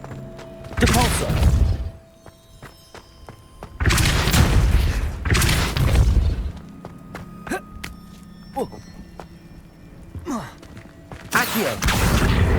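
A Depulso force spell cast in the Hogwarts Legacy video game, heavy whooshing bursts with deep thuds arriving in several separate blasts, separated by quieter game ambience and small clicks.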